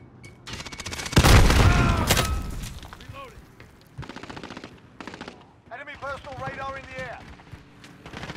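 A thrown frag grenade going off in a shooter game as one loud, close blast with a rumbling tail, followed by scattered gunfire and voices talking.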